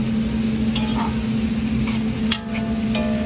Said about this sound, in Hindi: उसके बाद अभी गार्लिक डाल दिया।